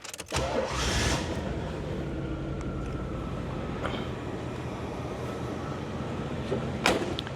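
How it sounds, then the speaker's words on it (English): A 1985 Chevrolet Caprice with a stock 305 cubic inch 5-liter V8 cranks and fires, then settles into a steady low rumbling idle, with a brief rev near the end. "She got the stock 305 cubic inch 5-liter V8."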